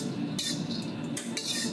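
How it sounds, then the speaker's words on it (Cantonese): Dried shrimp being stir-fried in a pan give a few bright bursts of spatula scraping and clattering against the metal, heard alone over a low background hum. "落埋啲歐蝦仔， 蝦米。 哎呀 冇嘢。 ，OK，開火跟住炒咗佢"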